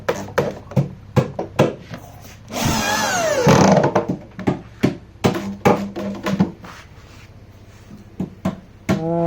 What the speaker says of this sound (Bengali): আমার কাজের কোয়ালিটিগুলো এই পাশ থেকে স্ক্রু মারতেছে, আর এই সাইডে স্ক্রু দেওয়া আছে